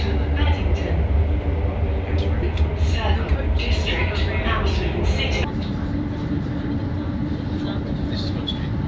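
Elizabeth Line train heading to London Paddington: steady low rumble of the carriage in motion with rattles and squeals, loud and continuous throughout, easing slightly toward the end, with no voices over it.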